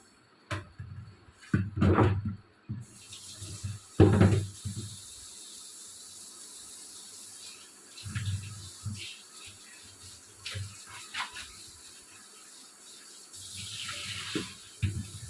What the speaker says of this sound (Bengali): আলু বেগুন যেগুলো কেটেছি সেগুলো ধুয়ে নিই।